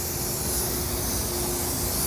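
A spray gun sprays metallic automotive paint onto a car's quarter panel and door in a steady, continuous hiss that holds level for the whole stretch, close and fairly loud, with no talking.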